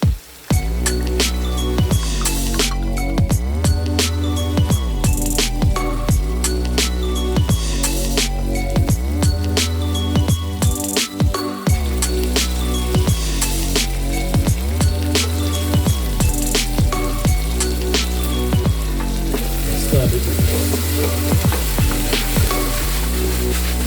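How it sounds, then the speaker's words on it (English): Pilau sizzles loudly in a pot as tomato paste is added, a dense continuous frying crackle that stays close and steady throughout, heard under a layer of music. "I'll also add the tomato paste."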